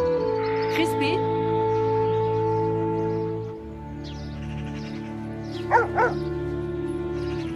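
A dog gives a few short barks and yips, one near the start and a quick pair later, over a steady low hum in a quiet indoor scene.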